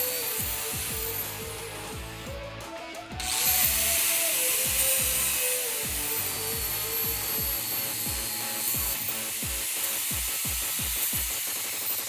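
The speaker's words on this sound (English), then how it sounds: "you'll have to drill out these holes to 1/2 inch." Power drill boring out holes to 1/2 inch in the frame of a 2009-2018 RAM 1500 pickup during a body lift install: close, steady mechanical whirring with a rapid train of repeated knocking pulses that grows louder partway through.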